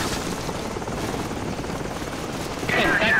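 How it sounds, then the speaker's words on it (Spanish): Helicopters close in fast during a Call of Duty 4: Modern Warfare mission, a steady rotor-and-engine roar filling the scene, with a brighter burst of noise near the end. "Helicópteros acercándose a gran velocidad."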